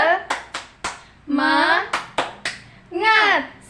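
Children in an Indonesian classroom do a rhythmic spirit clap: sharp hand claps in a set pattern alternate with chanted vocal bursts, close and clear.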